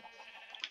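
A Minecraft sheep bleats once, a short nasal bleat in a quiet game scene, ending with a brief sharp click.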